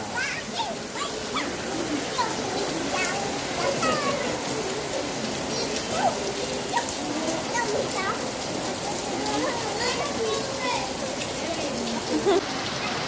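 First monsoon rain falling in Mumbai, a dense steady patter of drops on surfaces throughout, with a few bird calls and distant voices underneath.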